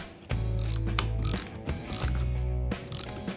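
Parts are being screwed into a Porsche windshield wiper motor during a rebuild, with a couple of close bursts of ratcheting clicks and mechanical whirring, separated by brief pauses and no talk.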